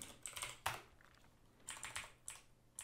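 Computer keyboard typing while renaming a file, a few quick bursts of close key clicks with short pauses between them, otherwise quiet.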